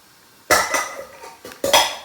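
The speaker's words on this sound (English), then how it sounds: "my little one who decided to take all the pots out and start playing with them" A small child bangs metal pots and pans in a home kitchen, producing a few sharp, clattering clanks in irregular bursts with quiet gaps between them, close by and loud.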